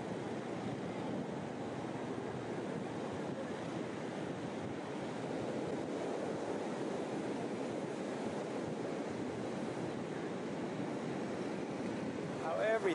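Heavy surf from a storm at Cha Am, Thailand, roars as a steady, dense broadband wash of waves, with constant wind noise on the microphone and no breaks.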